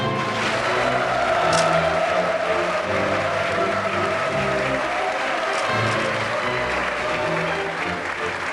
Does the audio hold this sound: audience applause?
yes